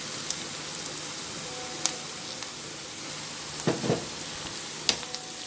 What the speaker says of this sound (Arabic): حطيت الزيت اهو دلوقتي، وهبدأ اخلي البصلة تدبل معايا، وهقوم حاطة دلوقتي على طول الثوم